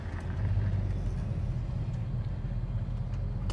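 A 650 hp 1967 Chevelle swings through a U-turn, its engine giving a steady low rumble heard from inside the car, with no talk.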